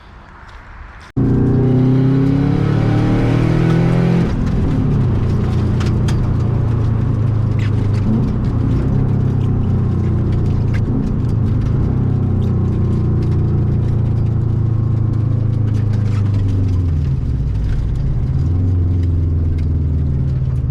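A modified 2005 Subaru WRX STi starts up and drives on a country road, its loud engine revving in steady, rising and falling pulls with gear changes, close and continuous for about twenty seconds.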